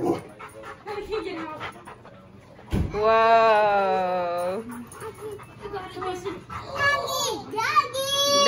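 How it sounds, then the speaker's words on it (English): A pet dog in a family home's basement gives a short whimpering, yelping cry near the mic, alongside children's chatter and adult talk throughout. "Doggy. Doggy."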